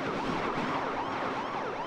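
Siren power-up wailing in the racing game Beach Buggy Racing 2, a continuous sweeping electronic siren over a busy engine and game-sound background, loud and steady throughout.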